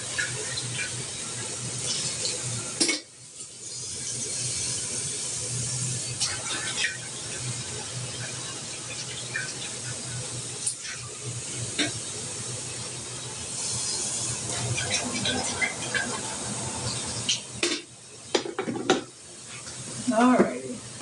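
Water runs steadily from a tap while a coffee pot is rinsed out, a continuous hissing splash with brief breaks and clunks, and a person talks now and then over it.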